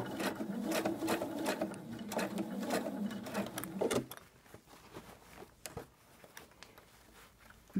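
Domestic sewing machine stitching a bellows-pocket fabric project straight over pins, a steady close whirring run for about four seconds, then brief stop-start bursts of stitching with handling noise.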